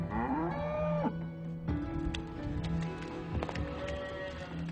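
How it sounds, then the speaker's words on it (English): Dairy cows in Victoria's Gippsland region mooing as they walk to the milking shed, several long low moos close by, one after another, with faint shuffling between calls and no talk. "these dairy cows make their way to Craig and Marie Aplin's milking shed"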